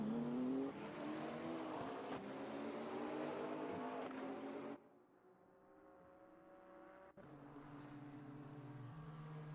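GT3 race cars in a racing video game, engines whining and shifting through gears, loud and continuous, dropping to a lower drone midway and then rising again as another car revs up.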